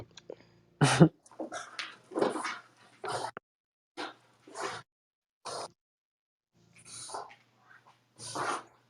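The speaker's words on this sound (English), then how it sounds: "My dog mad at me because she can't get no soup." A dog in a home setting makes a run of short whimpering barks, huffs and sneezy breaths in separate bursts, close and fairly loud with quiet gaps between.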